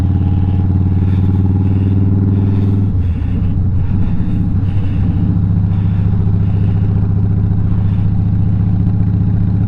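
A motorcycle fitted with an Arlen Ness Monster Sucker air intake rumbles loud and close, its steady engine drone shifting in pitch a few seconds in as it rides on, with no voices over it.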